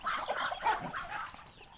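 Chickens and ducks squabbling at a rural home, faint flurried clucks and squawks in a short, uneven burst at a distance.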